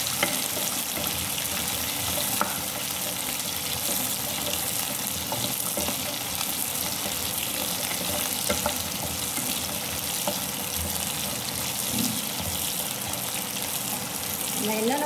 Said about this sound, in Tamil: நல்லெண்ணெய் ஊற்றி கடுகு, வெந்தயம், ஜீரகம் போட்டு தாளிச்சிட்டு, கருவேப்பிலை, வரமிளகா, பூண்டு, வெங்காயம் போட்டு வதக்கிட்டுருக்கோம்